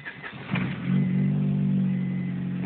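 A Honda car turning over on a cold start, brief cranking that catches into a steady, loud idle humming close by, with no one talking.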